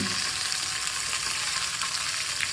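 Curry leaves and green chillies hit hot oil, producing a loud, dense, continuous sizzle and crackle heard up close without any speech.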